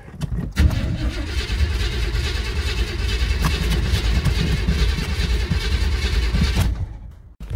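An old 1986 Chevrolet Suburban dually truck engine cranked on a push-button starter, a loud, close, continuous grinding churn that runs for about six seconds before cutting off.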